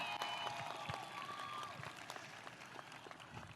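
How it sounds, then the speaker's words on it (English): An audience applauding at a high school graduation ceremony, broad, fairly distant clapping from a crowd that carries on steadily throughout, with a few faint voices underneath. "Let's give a round of applause to our teachers and faculty"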